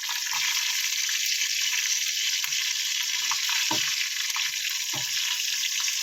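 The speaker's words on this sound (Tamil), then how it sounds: "ஃபைனலாக நல்லா ஃப்ரை பண்ணியாச்சு. நல்லா எண்ணெய் மேலே வெடிக்குது." Chicken 65 leg pieces deep frying in hot oil, a steady dense sizzle with scattered sharper pops and crackles throughout, close and continuous with no talking.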